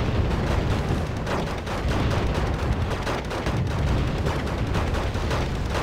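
Dense, continuous battlefield gunfire and artillery from the real-time strategy game Wargame: Red Dragon, a loud rolling barrage of rapid shots and booms with no speech over it.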